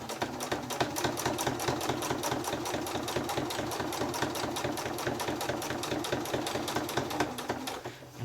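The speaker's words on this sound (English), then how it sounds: "and then I'm going to continue to sew" Sewing machine stitching a fully zipped and lined quilted tote, rapid steady needle clatter running continuously at close range, stopping near the end.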